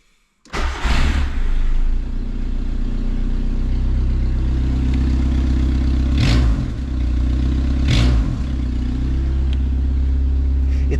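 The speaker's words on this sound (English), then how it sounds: "Since it has no muffler, it sounds like not a race car, a rally car." A Nissan Pao engine with no muffler starts and settles into a loud, rough, throbbing idle, with a couple of brief blips of revving over the steady low rumble, close by.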